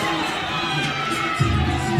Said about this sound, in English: CrossFit Mayhem from the bottom left of your screen, cheering on Rich Froning from Cookeville, Tennessee.